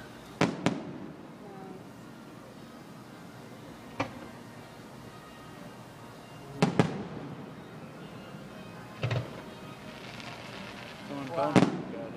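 Fireworks exploding at a crowd celebration, several sharp distant bangs and crackling bursts spaced irregularly, some in quick pairs, with a louder crackling flurry near the end, over faint crowd murmur and occasional voices.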